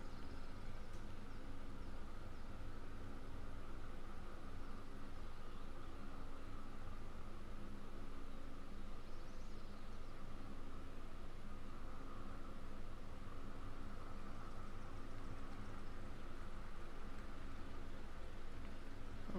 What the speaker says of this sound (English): that could be the ambient noise from your plane.